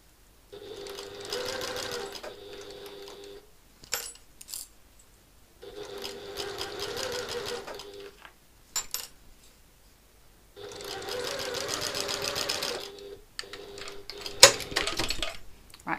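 A sewing machine stitches handle tabs for a satchel bag in three steady whirring bursts, each a few seconds long, with short clicks and handling noises between them, close and clear.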